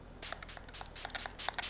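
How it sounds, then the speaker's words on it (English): A D'Alba First Spray Serum face mist sprayed in several quick, close hissing bursts of varying length. "Next up, another serum spray. So it's the D'Alba First Spray Serum."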